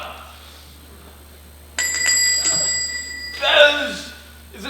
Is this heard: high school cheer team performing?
no